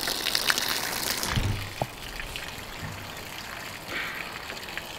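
Water running from a toilet hot tap, a faint steady trickle and hiss in a room, with a few soft thuds and bumps nearby.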